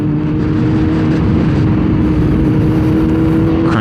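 A Harley motorcycle engine rumbles loudly nearby outside a Harley bar on a summer day, a steady heavy idle with a low throbbing drone that never lets up, with no voices.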